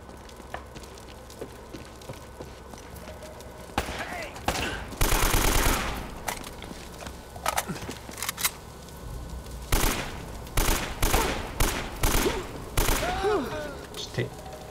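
Gunfire in the Uncharted: Drake's Fortune video game: bursts of game shots and loud volleys rattle off in clusters, with a dense barrage in the middle and more sharp shots toward the end over a constant ambient background.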